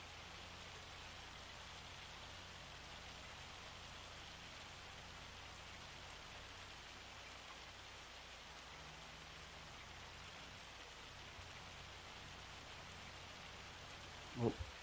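Rain falls steadily in the video game Farming Simulator 25, a soft, continuous hiss of drops on surfaces that stays even throughout with no voices.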